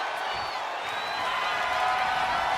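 A crowd roars in the wrestling video game WWE 2K25, a steady wash of cheering and whooping with no breaks, building slightly louder toward the end.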